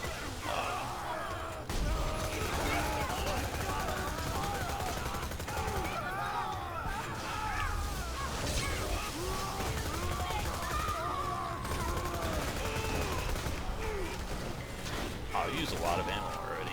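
Bandit SMG fire in Borderlands 2 during a fight in Lynchwood, with rapid bursts of automatic shots that run almost continuously under a busy game mix and a player talking over it.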